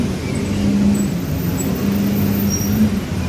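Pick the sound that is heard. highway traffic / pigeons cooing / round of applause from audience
highway traffic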